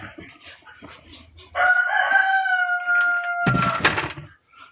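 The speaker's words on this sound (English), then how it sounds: "You hear them chickens in the background." A single loud, nearby rooster crow stretches for about two seconds, framed by softer clucking and rustling before and after.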